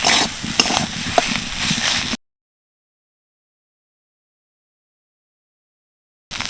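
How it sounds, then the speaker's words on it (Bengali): A cauliflower and potato filling stirred in a pan and dried out, a brief, soft scraping sizzle for about two seconds before the sound cuts to silence, then returns faintly at the very end. "একটু নেড়ে চেড়ে একদম শুকনো শুকনো করে নেব"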